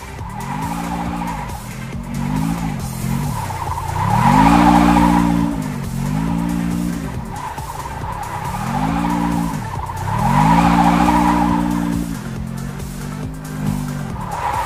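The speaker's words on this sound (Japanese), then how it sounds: "なんか車の音が聞こえますが" Engine revving in repeated rising-and-falling surges with tire skidding and squeal from a car in the mobile game Car Parking, a Civic setup, loud and close with no talking.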